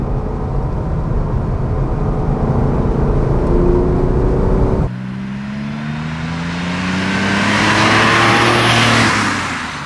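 A 1966 Porsche 911 SWB in original condition revs while driving, its engine note climbing steadily through the gears with a shift midway, loud and continuous from inside the car with no talk.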